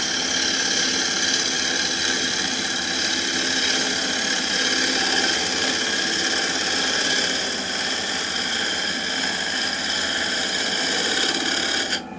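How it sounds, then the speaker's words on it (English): A CL4 metal lathe takes a fine shear cut around the edge of a workpiece, a steady loud mechanical whine and hum that runs unbroken for the whole stretch with no voices. "There's the lathe in action."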